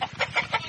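A pet chicken clucks in quick, rhythmic bursts, about five short calls in under a second, close and fairly clear.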